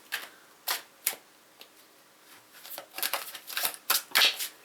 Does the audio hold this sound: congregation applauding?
no